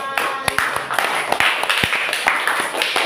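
Students in a classroom clap for a presenting group, scattered uneven claps close by, mixed with talking voices throughout.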